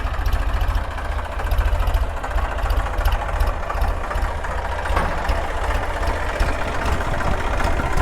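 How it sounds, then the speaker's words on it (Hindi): A tractor engine runs steadily while a water tank fills for cattle, a loud, close, low throbbing idle that holds for the whole stretch with no one speaking. "ट्रैक्टर लग रहा है भाई, फटाफट अभी भर जाएगा।"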